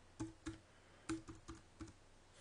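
Keys tapped on a computer keyboard while entering a phone number, a handful of quiet, separate clicks in an uneven rhythm, close and alone with no talk.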